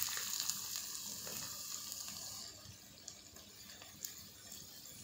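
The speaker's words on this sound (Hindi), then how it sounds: "ऑयल हमारा गर्म हो चुका है, इसमें डालेंगे प्याज" Onions drop into hot cooking oil in a kadai for chicken masala, a bright hiss that settles into a softer steady sizzle with a few faint clicks.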